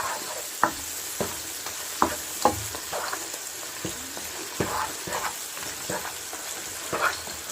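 Meat and spice masala sizzle and fry in a pot for degi aloo gosht, with a steady crackle broken by repeated scraping stirs at a slow, irregular rhythm. The pot is close and moderately quiet, with no talk.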